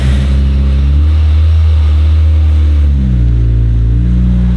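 A drift car with a 2-litre engine revs loudly up close, a steady heavy engine drone that rises and falls in pitch through a couple of throttle blips, with no talking over it.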